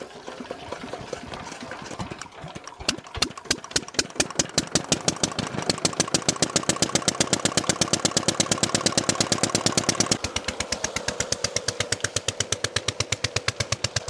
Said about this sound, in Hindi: खेत में भी पानी कम है, हीटर इंजन चलाएंगे।